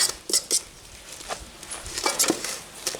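KFC copycat coleslaw with shredded cabbage and carrot being stirred in a bowl: close, light clinks and scraping taps of a utensil against the dish come in short, irregular bursts with quiet gaps.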